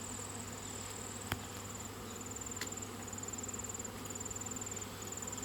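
Honeybees buzz around an opened hive during an autumn inspection, a faint, steady outdoor drone with a thin high whine on top and a single sharp click partway through.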